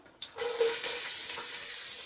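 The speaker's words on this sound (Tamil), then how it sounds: "வெங்காயம் நல்லா வதக்கி விடுங்கம்மா." A brief clatter, then a steady hiss of chopped onions frying in a hot pan for vegetable kurma, sizzling continuously at close range.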